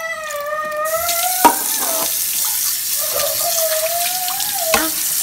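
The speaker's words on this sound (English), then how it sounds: "I'm showing Chimama how to wash plates." Tap water runs steadily into a sink as plates are washed, a continuous bright hiss under a high electronic tone, with a couple of sharp clatters of dishes knocking together.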